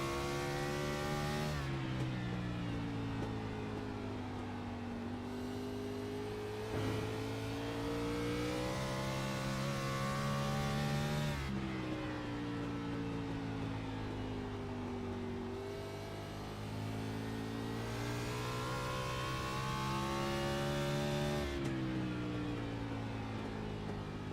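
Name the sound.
race car engine on an onboard lap at Nashville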